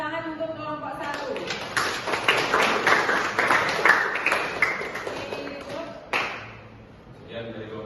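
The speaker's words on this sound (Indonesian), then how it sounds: "Beri tepuk tangan untuk kelompok 1" Students in a vocational school classroom clap for a presenting group, a burst of scattered hand claps lasting several seconds and tapering off, mixed with talk and classroom noise.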